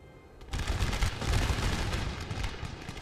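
Gunfire volley in Napoleon: Total War, a sudden crackling burst of many musket shots that erupts after a short pause and rumbles on as a dense, rolling fusillade.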